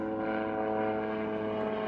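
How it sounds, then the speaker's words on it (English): A helicopter passes over a vast outback cattle station in Australia, its engine and rotor making a steady, droning roar that holds at a constant level throughout. "Seeing this chopper come over"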